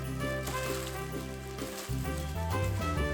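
Japchae glass noodles tossed and stir-fried in a hot pan, a steady soft sizzle with faint scraping and shifting throughout, no talking.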